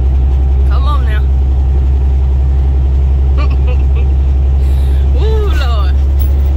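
An 18-wheeler truck's engine drones low and constant from inside the cab as it drives, while someone talks intermittently over it.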